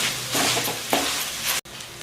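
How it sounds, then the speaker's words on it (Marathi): Onion and tomato are mashed and stirred in a pan for pav bhaji, giving a dense close sizzle with rough pressing, scraping strokes that cut off briefly near the end. "आता याला आहे ना असं घुटून घ्यायचं, मग चांगलं बारीक होतं."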